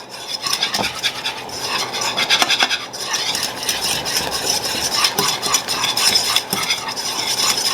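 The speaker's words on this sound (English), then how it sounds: "Stir, stir, stir." Christmas crack candy thickening as it is stirred in a pot, steady scraping and stirring strokes that keep going throughout, close and fairly loud, with faint sizzling underneath and no talk.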